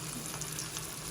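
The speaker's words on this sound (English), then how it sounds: "And there we are, sizzle, sizzle, sizzle." Prawns deep-frying in hot oil give a steady, close, even sizzle and crackle that continues without a break and with no voices.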